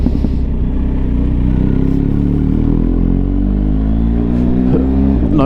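Steady engine drone of a BMW R 1250 GS Adventure motorcycle while riding, a loud continuous low rumble with rising and falling pitch under wind noise, with no talking.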